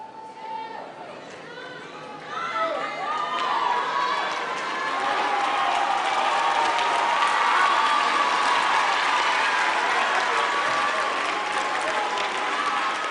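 Graduates at a university graduation ceremony give a sustained round of applause to their families, friends and parents, dense clapping that swells after a couple of seconds and holds steady, with a voice speaking over the start.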